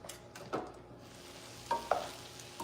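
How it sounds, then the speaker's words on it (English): Cabbage sautés in a pan, with a soft background sizzle broken by a few scraping stirs of a utensil, quiet and close. "That's the cabbage. It's sauteing."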